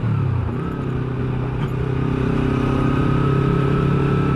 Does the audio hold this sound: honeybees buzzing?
no